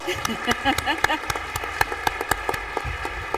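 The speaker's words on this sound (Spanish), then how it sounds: "este aplauso es para toda la mesa" Scattered clapping rises from the audience at a cybersecurity panel during an international conference, the claps irregular and sparse rather than a full ovation, with the room's murmur underneath.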